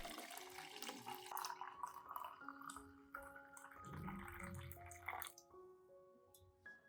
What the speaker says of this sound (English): I add 500 milliliters of hot water into the clean glass cup.